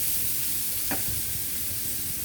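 Onions frying in a pan with curry for curry cabbage, giving a soft, steady sizzle at low volume with one brief scrape of stirring partway through.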